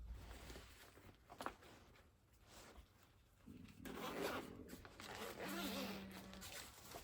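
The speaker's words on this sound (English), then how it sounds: "So let me unzip it." An Alpinestars off-road airbag vest being unzipped, a zipper pull scraping faintly and close by amid light rustling and handling noise.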